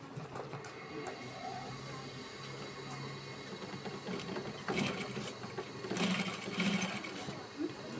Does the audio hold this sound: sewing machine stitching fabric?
yes